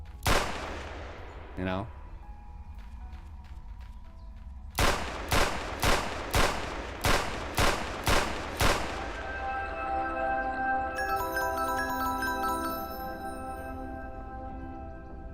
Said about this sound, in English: then you have this revolver and you can shoot